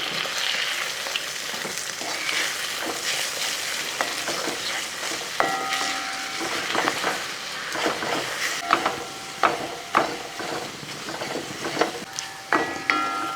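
Seasoned egg with salt and pepper sizzles in a hot pan while a utensil stirs and scrapes, giving a steady frying hiss broken by repeated clinks and scrapes.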